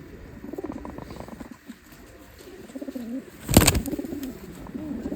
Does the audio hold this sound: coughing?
no